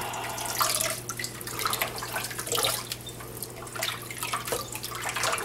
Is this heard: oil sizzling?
no